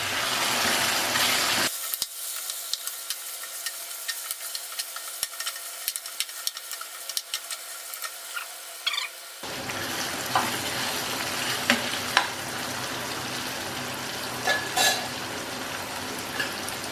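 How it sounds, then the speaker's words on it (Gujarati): Chopped tomatoes stirred into a potato and tomato curry in a pan, giving a steady sizzle with scraping stir strokes. It runs close and continuous, quieter mid-clip and then louder and denser again, with no talking. "અને આપણા સમારેલા ટામેટા નાખી દઈશું સારી રીતે મિક્સ કરી દઈશું"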